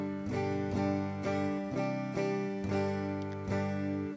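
Electric guitar through a Valeton GP-50 multi-effects unit using a Foxy 2x12 cabinet simulation, a few sustained strummed chords ringing out clean and full in steady phrases, no talking.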